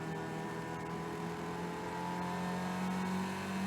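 Caterham race cars battle for position at Oulton Park, their engines a continuous, fairly faint droning whine heard from inside a car, steady with no talk.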